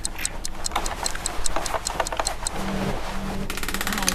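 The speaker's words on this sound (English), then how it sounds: "we found the clock, so we're going to wind it, and as you can see it fast forwards the clock there" A clock being wound in the video game Knock Knock, with steady, fairly loud mechanical ticks that suddenly become a rapid, dense ticking as the clock fast-forwards near the end.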